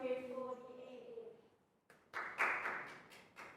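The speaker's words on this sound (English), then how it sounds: "Rounds of applause." In a Year 4 maths lesson, a voice speaks, then a short round of applause follows: a handful of close, crisp claps in an uneven rhythm after a brief pause.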